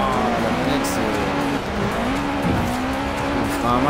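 A car engine in Forza Horizon 4 drones steadily while tires squeal and skid under the handbrake, the pitch sliding up and down through a turn.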